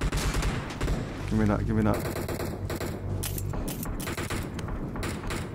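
Gunfire in the video game PUBG Mobile, loud repeated shots and bursts with a rapid machine-gun stretch, layered under a player's excited speech.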